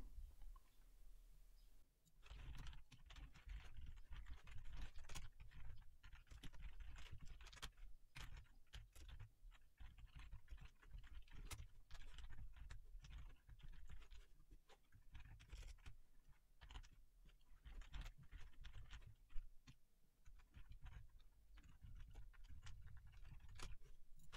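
C# code typed on a computer keyboard: a long, steady stream of quiet key clicks at an even pace, faint and close, with no talking.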